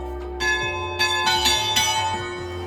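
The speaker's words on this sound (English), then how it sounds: "rang the bells for good luck that echoed in the valley below" Bells of the St. Nikolai chapel, on a hillside in Slovenia's Karst wine region, rung in several clear strikes that ring out and overlap, their tones lingering as they echo toward the valley below.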